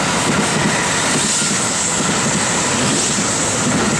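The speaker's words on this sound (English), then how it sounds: "There's another train." A train rolls past on the tracks in Matsudo, a loud, close, steady rumble and rush of wheels filling the whole moment without any voices.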